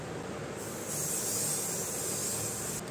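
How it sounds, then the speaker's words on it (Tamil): A makeup fixing spray hisses in a steady, close burst of about two seconds, standing out over faint background noise with no talk. "டர்மாவில் வந்து ஃபிக்ஸிங் ஸ்ப்ரே."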